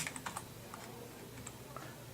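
A computer keyboard is used to type a course entry, producing a quiet scatter of light key clicks with uneven gaps. The clicks sound close but soft, with no voices.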